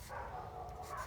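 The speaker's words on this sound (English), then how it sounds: "Sorry for the barking." Neighbors' dogs bark in the distance, a faint, continuous stretch of muffled barking with no talk over it.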